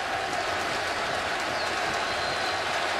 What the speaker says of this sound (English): the crowd like what they're seeing